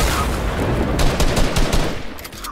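Rapid, dense gunfire from the video game Fortnite, a loud and continuous stream of closely spaced shots filling the whole moment with no pause.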